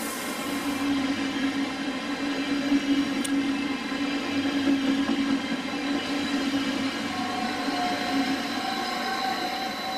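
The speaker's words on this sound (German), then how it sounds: "Stadler Kiss Triebzug von der Westbahn" Steady rumbling roar of a Westbahn Stadler KISS electric multiple-unit train passing nearby in wintry Assling, Austria, with a sustained hum and faint wheel whine, no voices.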